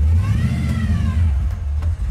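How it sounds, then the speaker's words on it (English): A supercharged 1971 Oldsmobile 442 engine rumbles low from inside the car while driving, with a faint rising and falling blower whine laid over the steady engine drone; no one speaks. "You can hear the blower."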